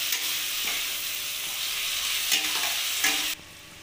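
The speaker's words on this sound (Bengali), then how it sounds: "এবার পেঁয়াজের সাথে ভালোভাবে এটাকে কষিয়ে নেব মশলাটা।" A ginger, garlic and green chilli masala paste is stirred and fried with onion and tomato in a kadai. Steady sizzling runs throughout, with a few distinct scraping strokes before it cuts off near the end.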